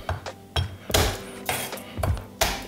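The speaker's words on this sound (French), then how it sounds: "Vous pouvez tout simplement écraser l'ail" Garlic cloves crushed on a kitchen board for a kimchi stew, with a series of sharp, close knocks and thuds at an irregular rhythm.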